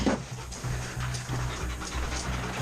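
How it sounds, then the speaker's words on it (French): A police detection dog pants rapidly and steadily, close by, during a drug search in a housing estate, with faint background noise and no clear speech. "J'ai le chien qui me marque."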